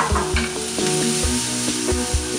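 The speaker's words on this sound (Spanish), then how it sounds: "Una vez que tengo entonces la sartén bien caliente, voy a empezar a cocinar la cebolla y el morrón." Onion and bell pepper sizzle steadily in a very hot frying pan, a continuous loud fry broken by repeated scraping stirs of the utensil against the pan, with no voices.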